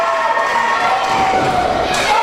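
A crowd at an independent wrestling show cheering and reacting in a hall: a steady, loud wash of voices with a ringing tone running through it, continuous throughout.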